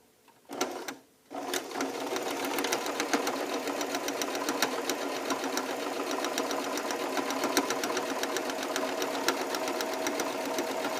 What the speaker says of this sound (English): Over to the sewing machine. Put in a plain seam to start with.